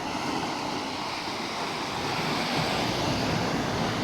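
Steady broadband wash of sea waves and surf at Cala Varques with wind rushing across the microphone, continuous and fairly loud, no voices.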